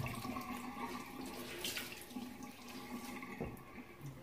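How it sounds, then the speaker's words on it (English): Tap water runs steadily into a sink, a continuous soft splashing stream close by with a few brief louder gushes and no talking. "Sorry about this water, but I need it. Hope it's not too loud."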